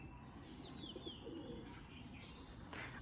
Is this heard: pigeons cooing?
yes